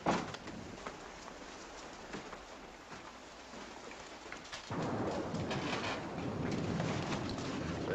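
Steady heavy rain with thunder rumbling in a wartime drama scene, the downpour growing louder and denser partway through and continuing unbroken to the end.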